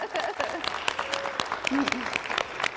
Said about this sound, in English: can we just clap for them?